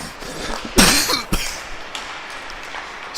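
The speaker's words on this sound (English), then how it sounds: "I apologize for the coughing." Someone coughs near the microphone at a youth girls' hockey game, two sharp harsh bursts about half a second apart, followed by quiet rink ambience.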